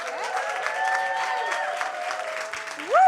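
An audience at an outdoor festival's park stage applauds steadily, with claps thick throughout and some whoops and cheers mixed in, swelling louder at the very end.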